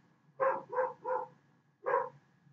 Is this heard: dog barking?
yes